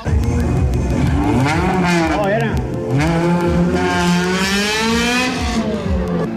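Race cars at the Philippine Autocross Championship in General Santos City, engines revving and climbing through gears loudly and continuously, with a voice talking over the motor noise.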